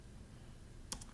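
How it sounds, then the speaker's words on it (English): A single computer keyboard key press, the enter key, struck once near the end as a sharp click with a faint release click after it, over quiet room hiss. "So I select it with the arrow keys, I just hit enter"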